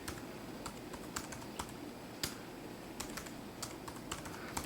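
Keys click on a MacBook Pro keyboard as a password is typed, with close, light taps in an irregular rhythm and a few sharper strokes, and no talking.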